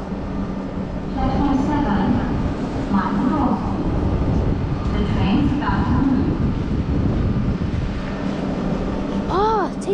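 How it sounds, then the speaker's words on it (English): A low, continuous rumble of a TGV train pulling out of Lille Flandres station in France, with a few brief tonal whines near the end and people talking nearby. "TGV has been allowed to leave"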